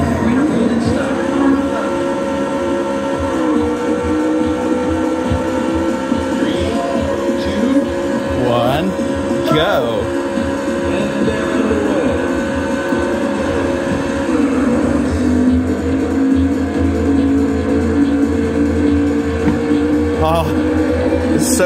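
Engine roar from a Sega racing arcade cabinet as a race begins, a steady loud synthesized motor drone with shifting pitch and game sounds running throughout, with someone talking over it.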